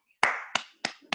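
Hand claps welcoming a singer to a virtual Punjabi literary gathering: four sharp, separate claps in quick succession, close and clear, with no talk over them.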